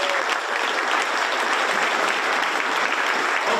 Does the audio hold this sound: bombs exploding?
no